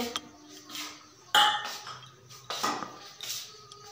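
Metal spoon clinks against a bowl as a small child eats Maggi noodles at home, a few sharp bright clinks scattered over four seconds with quiet kitchen clatter between.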